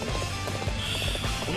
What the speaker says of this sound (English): Stuck on this shit slow horse.